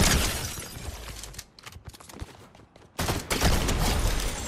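Shotgun blasts in a Fortnite match crack in a loud burst, thin out into scattered quieter shots and clatter, then surge back into heavy continuous fire near the end.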